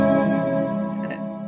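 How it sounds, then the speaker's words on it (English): A single guitar chord is strummed through a Big Sky reverb pedal with its strum effect on, ringing out as a dense, shimmering wash that slowly fades, with a faint high flutter near the end. "If I just strum one chord with all three pieces in"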